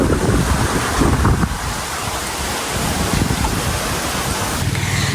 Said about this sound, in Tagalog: hangin po ngayon at gawa po ng bagyo